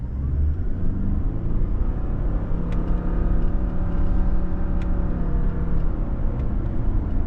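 A 2025 Subaru Forester Premium Hybrid engine under paddle-shifted downshifts in manual mode, a steady low rumble and hum with gently shifting tones, heard from inside the cabin, fairly loud and continuous without speech.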